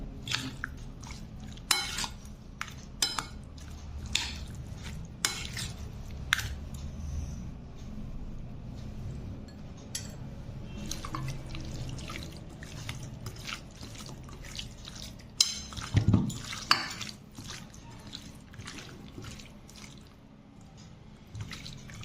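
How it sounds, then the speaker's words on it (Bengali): Hands mixing fish with mustard oil, giving soft wet squelching and sticky slapping sounds, intermittent and close, quiet overall with a few sharper squishes. "এখন এটাকে হাত দিয়ে ভালো করে আমি মেখে নেব"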